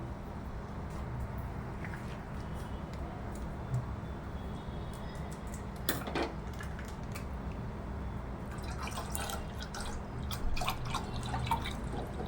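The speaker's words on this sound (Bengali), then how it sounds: "আমি এক এক করে 3টে প্যাকেট দুধ গরম করতে দিচ্ছি।" Packet milk poured into a pan on a kitchen stove, a steady low splashing trickle with a few faint clinks, fairly quiet and close.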